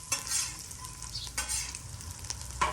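Crispy chicken fries in a pan with a close, lively sizzle that swells and dips as pieces are moved, punctuated by a few short utensil scrapes, no talking.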